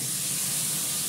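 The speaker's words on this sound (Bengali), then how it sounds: "জিরে ফোড়ন তো আগেই দিয়ে দিয়েছি। এবার মাছটা দেবো" Fish goes into hot oil already tempered with cumin seeds, and a dense, loud, continuous hiss and sizzle fills the short stretch without any voice.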